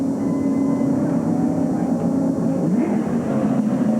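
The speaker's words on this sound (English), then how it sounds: "you hear that engine in the background?" An 8-cylinder NASCAR race car engine drones steadily in the background at Tucson Raceway during a winter stock car race, its pitch bending briefly midway, heard beneath voices.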